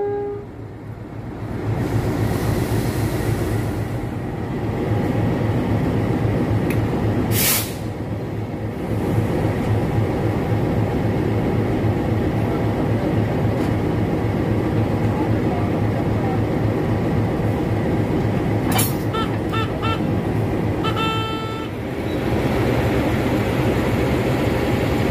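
The Lodaya executive train and its locomotive at an Indonesian station give a steady, loud rumble of rail cars and idling engine, with brief sharp hissing or squealing bursts partway through.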